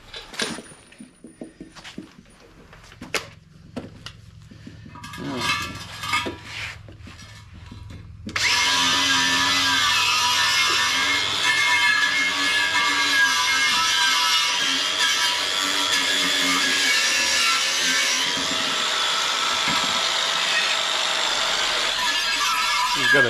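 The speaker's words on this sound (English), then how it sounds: "Got to get the cheek poker out there and clean up all that surface rust or whatever you want to call it on the inside there." A tool scours surface rust from the inside of a wheel on an M38A1 military jeep, a harsh, continuous, loud grinding scrape that starts after several seconds of scattered knocks and handling noise.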